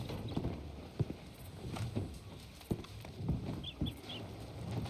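Horse hooves clip-clop at a walking pace across ground in Red Dead Redemption 2, a series of soft, close, irregular thuds with faint birds chirping in the background.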